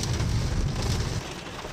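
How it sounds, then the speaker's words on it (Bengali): Heavy rain pouring down in a dense, loud, even roar of drops striking surfaces nearby, easing slightly toward the end, with no voices. "খুব জোরে বৃষ্টি শুরু হয়ে গেছে এখানে এই দেখাই যাচ্ছে না"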